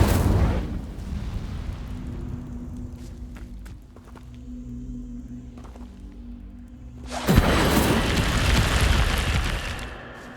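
Incendio fire spell cast in the Hogwarts Legacy video game: after a quieter stretch of footsteps and ambience, a sudden loud roaring burst of flame erupts and keeps blazing for several seconds.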